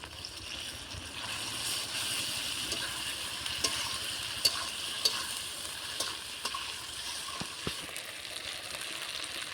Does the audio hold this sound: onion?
yes